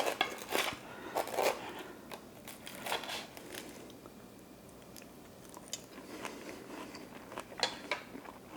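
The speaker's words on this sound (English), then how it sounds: "So let's cut a little piece with some strawberry and some whipped cream." A knife cuts through a crispy Brussels waffle topped with strawberry and whipped cream, giving close, crunchy crackles and scraping in uneven bursts, quieter in the middle, with no talking.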